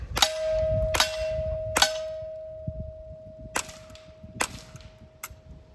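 Suppressed rifle fired with Aguila Sniper Subsonic 60 grain ammunition through an SWR suppressor: six sharp, close, fairly quiet cracks with metallic action clacks, spaced unevenly with short pauses, a steady faint tone running underneath.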